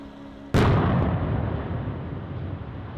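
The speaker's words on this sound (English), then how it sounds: "the controlled explosion at Prestige took place" Controlled TNT demolition of a seven-story building at Prestige, a sudden loud blast after a quiet moment, followed by a long rumbling roar of collapse that slowly fades.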